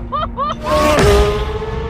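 A 2023 Chevrolet Corvette C8 Z06 engine revs hard, its pitch climbing steadily and holding high, loud and close, while excited voices talk over it.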